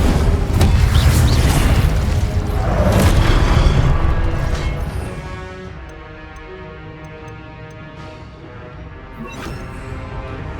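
Incendio fire spell cast in Hogwarts Legacy, a loud booming burst of flame with crackling, ticking game effects that fades into a quieter sustained tone with faint clicks.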